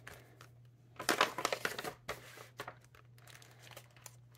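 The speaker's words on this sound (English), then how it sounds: "I'm going to open the folder first." A paper folder from a craft kit box is opened close by, with crisp crinkling and rustling bursts, a busy flurry in the middle followed by a few lighter scattered crackles over a faint steady hum.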